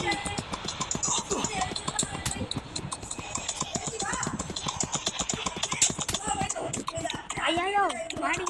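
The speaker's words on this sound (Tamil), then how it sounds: "இதெல்லாம் அது குதிக்க போகிற குதிரை சவாரி." A horse ride with rapid, clattering hoofbeats clip-clopping close by, a horse whinnying in the latter half, and people talking and shouting excitedly over the hooves.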